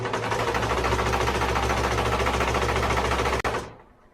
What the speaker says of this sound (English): okay to go a little bit slower on your machine. So I just do little bits at a time